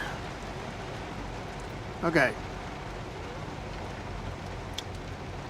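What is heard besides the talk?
heavy rain outside a truck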